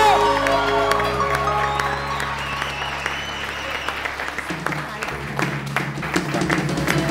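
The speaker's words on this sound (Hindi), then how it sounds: "बहुत सारी तालियों में डॉक्टर फारूक सत्तार।" A TV studio audience at an Eid special talk show breaks into steady applause with some cheering and whoops, heard over held music chords and occasional voices.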